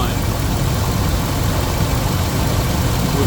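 Ford 5.4L 2V V8 engine idling steadily after an intake manifold crossover tube repair, a dense, even rumble with a faint knock running unbroken and close throughout, with no speech heard.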